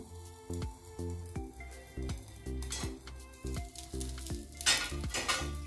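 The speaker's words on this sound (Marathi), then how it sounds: "एकदम मंद गॅसवरच आपल्याला याला छान भाजून घ्यायचं आहे" Bun dosa batter roasting in a covered pan over low heat, a steady soft sizzle with rhythmic knocks and clinks of pan and lid recurring throughout, close by and without talk.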